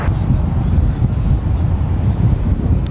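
Jet airliners at Dallas-Fort Worth International Airport, heard from an outdoor plane-spotting plaza as a steady, loud, low engine roar that fills the scene without a break.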